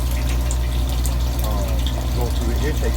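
A pump pushing water through the lines of a hydroponic grow system with aerators and barrels, a loud constant hum with rushing, gurgling water. It runs continuously without pause.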